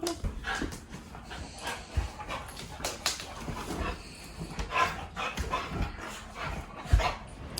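Dogs on a patio on a beach vacation morning, panting and giving small whimpers with occasional snuffles and shuffling, close and irregular against a quiet outdoor background.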